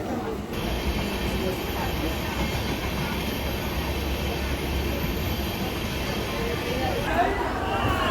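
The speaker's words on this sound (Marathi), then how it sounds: "आता जस्ट ट्रेन आलेली आहे आणि मी ट्रेनमध्ये जाते आहे." A crowded Mumbai local train moves along the track, a continuous rumbling roll with a steady high whine, heard from inside a carriage at moderate level throughout.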